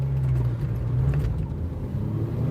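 A car drones past on a rural road, a steady low engine and tyre rumble, close and moderately loud, with no voices.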